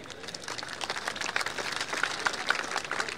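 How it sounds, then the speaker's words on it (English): An audience at the LIMA 2019 air and maritime exhibition opening ceremony in Langkawi claps for Royal Malaysian Armed Forces musicians. The applause is brief, fairly faint and dense, with many hands clapping at a distance. "Also a round of applause for the musicians from the Royal Malaysian Armed Forces."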